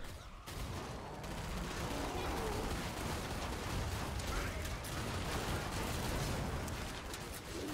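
Rapid pistol gunfire in the shooter game Killing Floor 2, dense continuous shots and mechanical clatter filling the whole stretch at a fairly quiet level.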